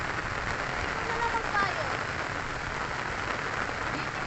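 Steady rain falls outdoors as a soft, continuous hiss of drops on surfaces, with a voice speaking faintly underneath.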